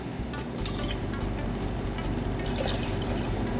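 Cointreau orange liqueur poured into a jigger for a Cosmopolitan cocktail, a soft steady trickle of liquid with faint drips, fairly quiet and continuous with no talking over it.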